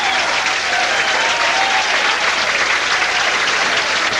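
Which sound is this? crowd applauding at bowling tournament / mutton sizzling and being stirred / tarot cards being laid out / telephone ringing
crowd applauding at bowling tournament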